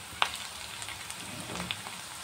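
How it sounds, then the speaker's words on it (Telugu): Onions with ginger garlic paste frying in a pan give a soft continuous sizzle, with a few sharp clicks of a utensil against the pan and no talking. "పచ్చివాసన పోయే వరకు ఫ్రై చేసుకోవాలి"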